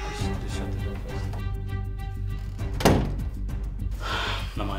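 A door is shut with a single solid thunk partway through, standing out over steady background music in an indoor setting.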